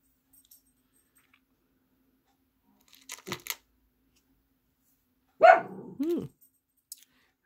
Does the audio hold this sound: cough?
no